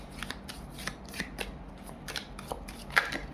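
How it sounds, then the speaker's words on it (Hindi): Tarot cards being shuffled by hand, a rapid series of crisp riffling flicks and soft papery slaps at close range, with no talking. "shuffle again and need 1 or 2 cards more universe"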